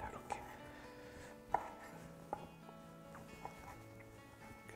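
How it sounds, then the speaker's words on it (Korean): A knife cuts through fruit flesh on a cutting board, giving about five soft, separate knocks at uneven intervals over a faint background hum. "이렇게 과육을 썰고 그리고 먹기 좋게 좀 썰어 보도록 하겠습니다"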